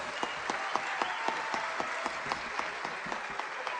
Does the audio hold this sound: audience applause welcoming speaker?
yes